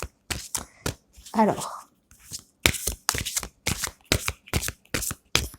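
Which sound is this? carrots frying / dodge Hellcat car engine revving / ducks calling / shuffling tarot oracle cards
shuffling tarot oracle cards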